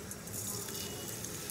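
Cumin seeds sizzle in hot oil in a pan where dried red chillies have just been fried, a steady, fairly faint crackling hiss that holds evenly throughout.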